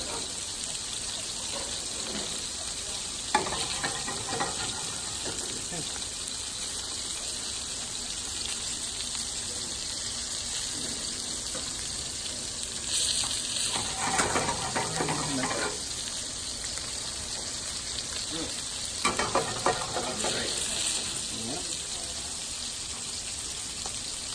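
Garlic and parsley fry in a hot pan with a steady, soft sizzle throughout, joined by a few louder bursts of crackling and stirring.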